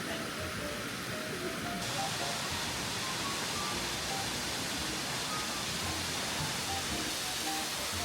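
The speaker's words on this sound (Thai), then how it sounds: "มาถึงแล้วน้ำตกที่เราเดินมาไกลแสนไกล" Minoo Waterfall near Osaka gives a steady, dense rushing roar, close and unbroken from start to finish with no voices over it.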